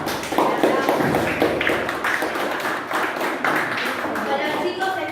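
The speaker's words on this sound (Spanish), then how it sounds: "Un aplauso." Applause from a school audience welcoming a guest, a dense patter of clapping hands close by, steady throughout.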